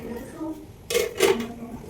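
A metal cooking vessel set down in a kitchen, two quick clattering clanks close by, with talking around them.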